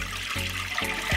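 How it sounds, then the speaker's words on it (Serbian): Roughly a litre of water poured from above into a cooking pot for a meat marinade, a steady close splashing trickle running without a break through the whole short moment, with no voices over it. "Za to mi je potrebno litar vode koju ću sipati u jednu šerpu"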